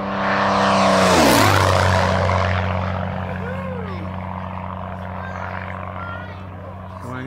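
A Lancair light airplane roars past at close range on a flyby over a farm airstrip, its engine note rising to a loud peak then dropping in pitch as it pulls away and fades, with faint voices in the background.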